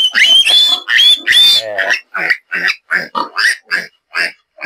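Piglets from a sow's litter on a farm squeal and grunt in a rapid series of loud, close bursts, the cries piled densely together at first and then breaking into short, separate squeals.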